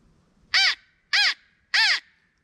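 Three loud, evenly spaced caws from a crow call imitate a crow, each harsh and nasal, separated by short silences.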